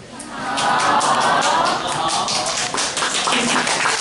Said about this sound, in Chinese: 热情掌声